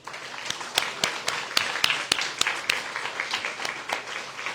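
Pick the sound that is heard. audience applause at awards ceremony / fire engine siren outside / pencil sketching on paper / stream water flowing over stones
audience applause at awards ceremony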